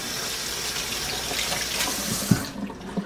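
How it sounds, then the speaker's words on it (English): Running tap water splashes steadily into a kitchen sink as hands are washed while a Sunday BBQ rib dinner is prepared, the flow cutting off near the end with a couple of small knocks. "Let me wash my hands off real quick."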